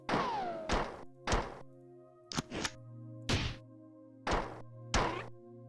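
Grenades in the 1994 video game Marathon go off as a series of sharp, punchy thuds and whacks, about seven separate bursts at irregular intervals over a steady low electronic hum.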